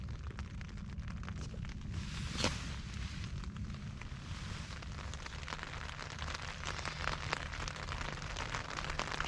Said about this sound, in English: See if this rain's gonna let up.